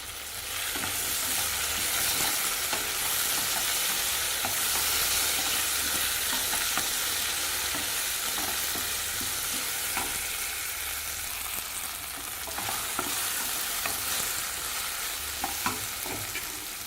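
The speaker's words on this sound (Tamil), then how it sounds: "தக்காளி நல்லா வதங்கிச்சுங்க." Tomato sizzles as it sautés in a pan, with a steady frying hiss and repeated scraping stirs close by, and no talking.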